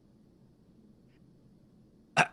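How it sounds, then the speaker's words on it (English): A man clears his throat once in a single short, sharp burst that breaks a quiet stretch near the end. "Mike stops me by clearing his throat."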